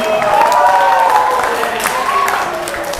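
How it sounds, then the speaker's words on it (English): Applause and cheering from a crowd at a speaking summit, loud and continuous for three seconds, with voices calling out over the dense clapping. "can all of us give a round of applause to Atifa one more time?"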